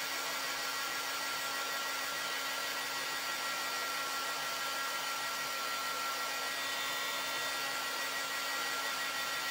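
A handheld dryer blows a steady, even whir over wet ink on a craft surface, constant and close with no pauses and no talking.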